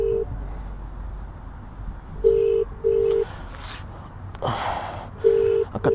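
A phone call's ringback tone, an Android-style sound effect playing on an iPhone, gives short steady beeps in pairs separated by pauses, clear over a quiet background.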